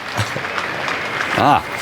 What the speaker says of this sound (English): Get a round of applause now. More applause.